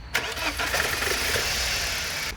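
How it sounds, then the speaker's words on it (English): A car engine cranks and catches, then settles into a steady close running roar that continues to the end, with no talking. "start the engine"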